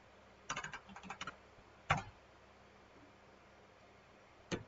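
Fingers type a message on a computer keyboard: a quick flurry of soft key clicks, then an isolated louder keystroke and one more tap at the end, fairly quiet and close.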